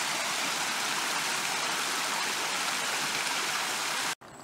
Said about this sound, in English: the water is cascading over the rocks